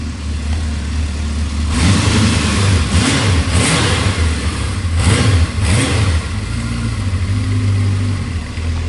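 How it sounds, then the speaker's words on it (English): A 1978 Kawasaki KZ650 motorcycle, refreshed and dyno tuned, revs up repeatedly from idle, its engine rising and falling in several loud, close bursts over a steady running drone. "check out this 1978 Kawasaki"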